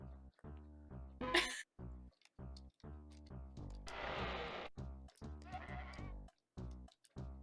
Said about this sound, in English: Oh, there's so many goats!